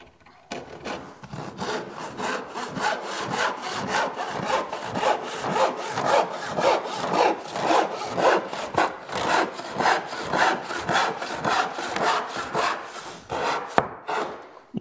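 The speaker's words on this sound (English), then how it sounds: "we could grab our cross-cut saw" A cross-cut hand saw cuts the end off a wooden board, producing regular rasping back-and-forth strokes at a steady rhythm, close and clear, with no talk.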